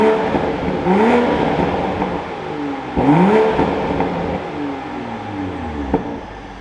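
A 2024 Toyota GR Supra 45th Anniversary Edition fires up and revs, its engine rising in a few sharp climbs and settling between them, close and loud with no talk.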